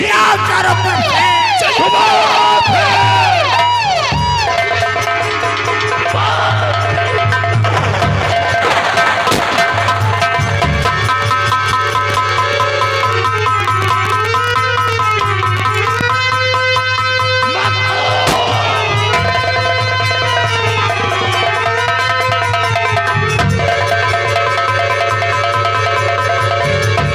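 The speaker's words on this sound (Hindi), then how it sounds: "साथियों, चिल्लाओ चारों तरफ से" In a nautanki folk drama about a dacoit, a crowd of men yells and whoops from all sides, loud and sustained for nearly half a minute over a steady low drone, with bursts of shouting rising and falling.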